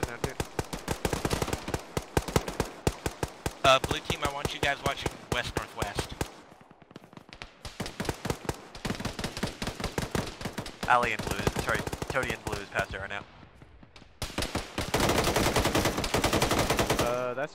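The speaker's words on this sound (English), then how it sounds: "Shooting from another direction" Sustained automatic gunfire from a military firefight in the video game Arma, bursts rattling in long dense strings with short gaps, loud and close, while players talk over it.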